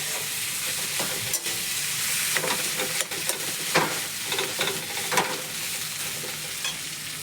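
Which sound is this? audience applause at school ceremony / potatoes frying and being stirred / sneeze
potatoes frying and being stirred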